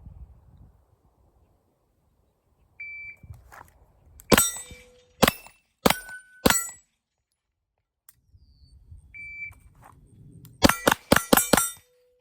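Handgun shots ring out during a shot timer drill, drawn from a custom leather OWB holster. A timer beep precedes each volley of sharp, loud reports, first a string of four, then after a pause another beep and a rapid cluster.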